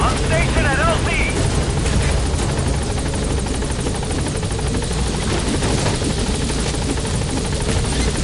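B-Quad helicopter landing at a landing zone in Metal Gear Solid V, a loud continuous rotor drone and whir that fills the scene, with a voice speaking over it.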